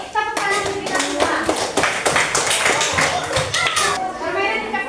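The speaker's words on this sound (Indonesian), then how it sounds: "kita tepuk tangan untuk kita semua" A classroom of students clapping hands together in a loud, steady burst lasting several seconds, with children's voices chattering and calling out over the claps.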